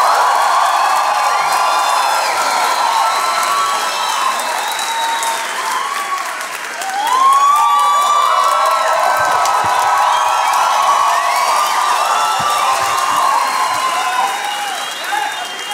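A theater audience at a live comedy show claps and cheers steadily throughout, a loud sustained wash of applause with whoops and shouts rising partway through.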